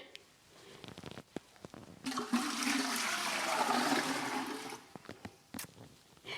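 Water pouring steadily into a Berkey gravity water filter, filling it to the top: a continuous splashing gush lasting a few seconds, close up, with small handling clicks and knocks before and after.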